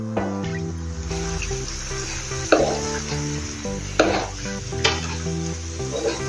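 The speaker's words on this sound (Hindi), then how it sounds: "ये देखो ऐसे तलने का है।" Shakkarpare, sweet dough pieces, frying in hot oil, a soft sizzle under a steady musical background, with a few sharp clinks of a utensil turning the pieces.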